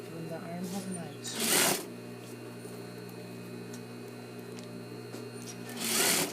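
A sewing machine stitches a seam on a shirt-dress, running in a steady hum with a couple of louder bursts of fast stitching, heard up close with a faint background drone.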